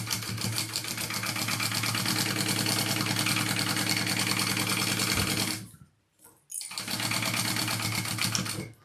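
A sewing machine runs fast and steady, basting a tag onto a crossbody bag. The close, loud mechanical whir stops briefly, gives a short burst, and then resumes at full speed until the end.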